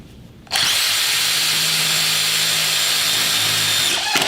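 Power drill driving through sheet metal, a loud, close continuous whine that starts abruptly and holds for several seconds, winding down at the end.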